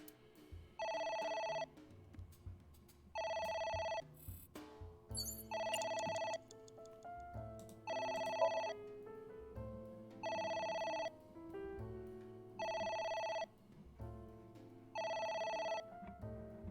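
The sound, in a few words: telephone ringing in video game AI: The Somnium Files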